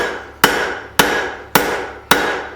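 Four evenly spaced, ringing hammer strikes from a straight peen hammer drawing out hot metal on an anvil, each sharp blow decaying briefly before the next, close and loud with no talk.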